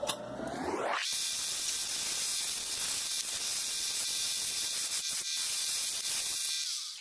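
A lapidary wheel at 1200 grit grinds a Nacozari turquoise cabochon, giving a steady, close, bright hiss with a faint high whine. A brief rising whir at the start settles into continuous wet abrasive rushing with a couple of short dips.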